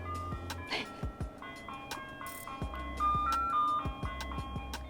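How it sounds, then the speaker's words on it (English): An ice cream truck jingle plays a repeating melody of bright, tinkling notes, heard from outdoors at a moderate distance over low background noise. "Ice cream truck intermission."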